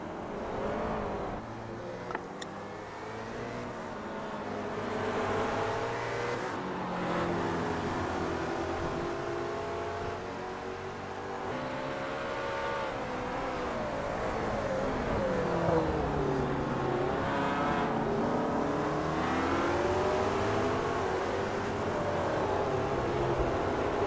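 Race cars, including McLarens, on a circuit during a round of the Grand Am series, with engines roaring and shifting pitch continuously as cars pass and are lapped, a steady loud wash of motor noise with no talk.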